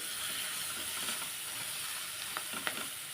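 Fenugreek leaves frying in a pan with turmeric: a steady, dense sizzle throughout, close and fairly loud, with a few brief crackles near the end and no voices.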